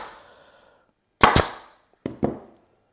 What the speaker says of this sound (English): Pull that down, put a staple in.